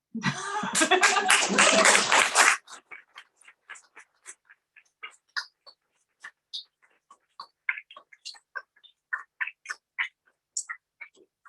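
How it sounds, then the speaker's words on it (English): An audience applauds after a reading at a book launch: a loud burst of clapping for a couple of seconds, trailing off into scattered light claps and small sounds. "So I know we can clap again."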